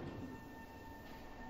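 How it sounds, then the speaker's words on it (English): Subway train in the Splatoon 2 Octo Expansion game, a steady close rumble of rail travel with a sustained tonal hum running through the whole short stretch, no voices. "Giant subway."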